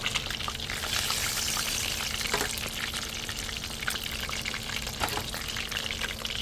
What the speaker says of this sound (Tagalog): Luto na yata itong aking mga piniprito.